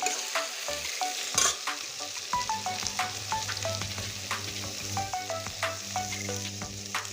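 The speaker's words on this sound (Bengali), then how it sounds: "আলু আর পেঁয়াজ একদম লাল লাল করে ভেজে নেব" Potatoes and onions frying in a pan for a rohu fish curry, with a steady close sizzle and repeated sharp spatula scrapes and knocks as they are stirred.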